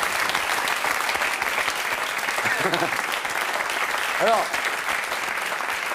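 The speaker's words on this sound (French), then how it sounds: "On vous applaudit." A TV studio audience breaks into sustained applause, a dense continuous clapping that runs throughout, while someone speaks briefly over it.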